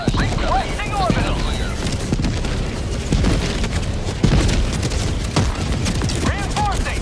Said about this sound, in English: Requesting orbital strike. Orbital inbound! Orbital barrage.